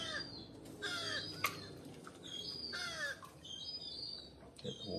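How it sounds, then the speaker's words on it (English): Several crows caw in repeated harsh calls, some near and loud, others fainter, over an outdoor background with light ambient noise. "You've got crows, baby seagulls."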